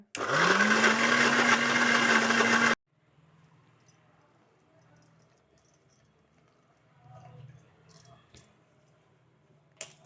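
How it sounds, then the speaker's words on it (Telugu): An electric mixer grinder whirs loudly as it grinds coconut chutney for a village meal, then stops abruptly after about three seconds, leaving quiet room sounds and light handling clatter. "ఇప్పుడు మేమైతే మిక్సీలో తిప్పేస్తున్నాం"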